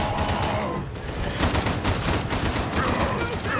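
Dense, overlapping gunfire from a chaotic Warhammer 40K: Darktide firefight, with rapid shots layered into a continuous din and voices faintly beneath.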